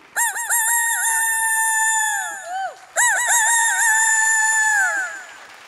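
A voice imitates a rooster crowing, giving two loud, drawn-out cock-a-doodle-doo calls up close with a short break between them.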